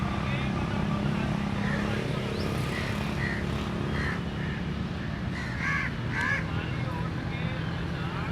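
Crows perched among tree branches give several distant caws, clustered in the middle of the stretch, over a steady broadband background hum.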